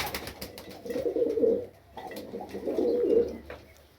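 Pigeons in a home loft coo in two low, throaty rolling phrases close by, each lasting about a second, with faint chirps and rustling between them.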